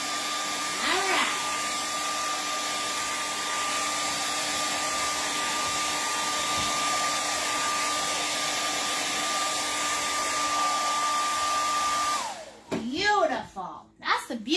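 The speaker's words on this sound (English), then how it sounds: "That's the beauty of the hairdryer." A hair dryer blows with a steady, loud whine for about twelve seconds, used to dry paint during a painting lesson, then cuts off, leaving brief voices and a few rustling sounds.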